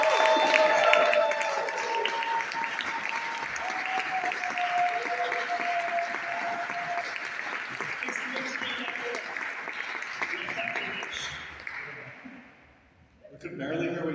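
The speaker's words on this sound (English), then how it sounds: "We could barely hear what you were saying because of the roarous crowd clapping great." A crowd at a political rally claps and applauds in a sustained, dense wash of sound that gradually fades toward the end, with a voice faintly audible beneath it.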